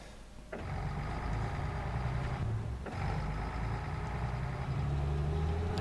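A vehicle engine in the Battlefield 4 Siege of Shanghai map, a steady loud mechanical drone with a brief dip and sharp restart partway through, humming on continuously.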